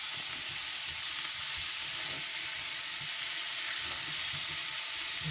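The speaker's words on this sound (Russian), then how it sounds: "Спустя пару минут после добавления моркови добавляем грибочки. Все так тоже перемешиваем." Sliced mushrooms and carrots fry in a pan for a zucchini and champignon stew, making a dense, even hiss of sizzling oil that holds steady throughout, close and fairly loud with faint stirring and no talk.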